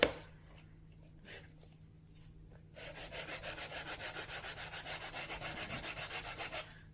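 Steady back-and-forth rasping of hand sanding on a wooden camera plate holder, working up to the polished surface, quiet at first, then a rhythmic run of even strokes, close and alone.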